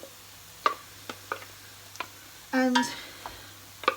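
A wooden spoon stirs blitzed butternut squash mix through pasta, giving sparse soft clicks and scrapes and one louder, longer scraping burst midway, with a single word spoken briefly.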